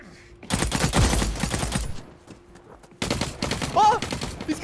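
Gunfire in The Cycle Frontier shooter game: two loud bursts of rapid shots, the first lasting about a second and a half, then a short lull before a second volley, with game sounds layered over it.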